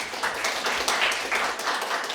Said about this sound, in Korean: 여러분 박수로 우리 조성희 교수님 환영해 주시면 감사하겠습니다